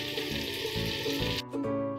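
Butter melting in a hot pan on the stove for butter chicken, sizzling loudly and steadily up close, then quieting sharply partway through before the hiss resumes.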